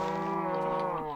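A video game cow in a jungle setting lets out a single drawn-out moo, close and clear, lasting just over a second with no talk over it.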